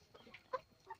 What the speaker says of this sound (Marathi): हे कावेरी जातीचे कोंबड्या आहेत